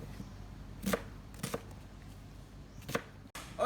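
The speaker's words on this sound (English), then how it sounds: "I'm gonna finish chopping this up" Knife chopping ingredients for kimchi on a cutting board, a few separate sharp chops spaced out, fairly close and moderately loud, with no talking.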